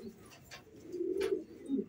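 Pigeons coo softly nearby in a low, rolling murmur that swells and repeats, with faint rustling around them.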